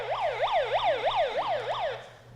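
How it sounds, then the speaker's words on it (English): An alert siren on a hand-crank emergency radio wails in rapid rising-and-falling sweeps, about six cycles in quick succession, close and clear before cutting off. "Provide you with a radio and an alert siren."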